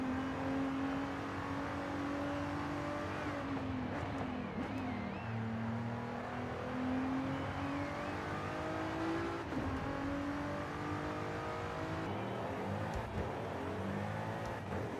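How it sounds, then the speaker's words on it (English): A sports car with an AMG engine revs steadily during a racing lap in Forza Horizon 5, heard as a loud, sustained engine drone that rises and falls in pitch with gear changes and no talk over it. "Oh, that glorious AMG sound."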